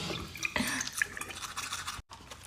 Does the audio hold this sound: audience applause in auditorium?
no